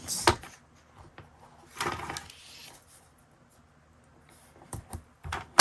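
Tim Holtz patterned paper is cut with a few short, crisp bursts of snipping and rustling, close by and separated by quiet pauses.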